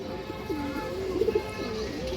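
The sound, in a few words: pigeon cooing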